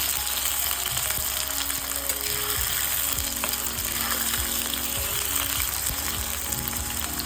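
Squash and potatoes fry in hot oil, giving a dense, steady sizzle with occasional stirring scrapes and clinks from the pan, close and continuous with no voices.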